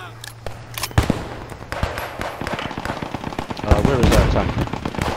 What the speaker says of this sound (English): I just blew the Churchill up.